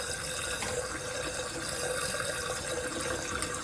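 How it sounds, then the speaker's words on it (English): Water runs steadily into a toilet tank that is filling and overflowing, a constant hissing rush close to the microphone, moderately loud and unbroken, with no voices. "the water is overflowing and it's going in there"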